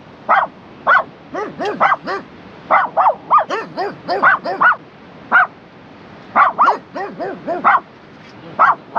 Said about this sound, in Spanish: El perro está ladrando.